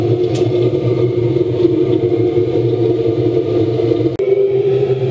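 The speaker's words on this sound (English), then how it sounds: "I might just turn it up a little bit just to get a little bit more heat out of it by just running the pump" A waste-oil shed heater runs with its fuel pump turned up, giving a steady, loud droning hum and whir with a brief dropout near the end, no voices over it.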